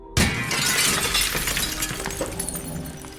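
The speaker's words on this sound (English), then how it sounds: "This time it shattered outward, like raindrops glittering against the dusty night sky." Window glass bursts apart with one loud, sharp shatter, followed by a long, bright spray of tinkling shards falling and scattering close by, with no voices.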